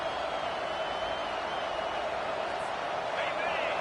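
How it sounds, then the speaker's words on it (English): Football stadium crowd at a college game, a constant, dense roar of cheering filling the background under a commentator's play-by-play. "This crowd rising up, sensing that its defense needs some help."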